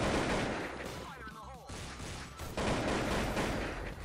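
AK-47 fire in the shooter game Blood Strike roars as dense, continuous bursts with a short break in the middle, loud and close, with a voice speaking faintly underneath.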